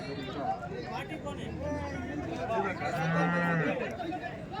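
A large cow at the Chintamani cattle fair lets out a single low moo amid steady crowd chatter, with people talking nearby.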